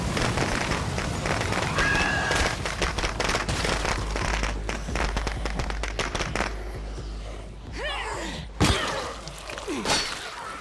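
Dense crackling and popping from fire in a video game, continuous and busy at first and thinning toward the end, with occasional thuds and other game effects mixed in.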